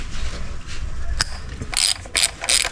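Socket wrench ratcheting off 10mm ignition coil bolts on a 2008-2018 Toyota Corolla engine: close, quick metallic ratchet clicks in short bursts over a steady background hum.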